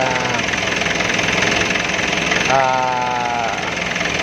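A Kia G2 car engine keeps running steadily after the key is turned off, a continuous idling drone with a slight shift in pitch midway, close and alone.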